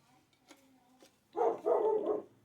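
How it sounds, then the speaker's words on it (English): A dog barks in a short burst of two or three quick barks, fairly loud and close, following a quieter stretch with a faint voice and a soft whine or hum. "Please excuse the dog."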